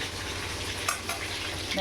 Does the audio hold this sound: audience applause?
no